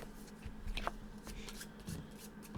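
Board game cards are shuffled close up, giving soft riffling flutters and crisp snaps in irregular bursts against a quiet tabletop background.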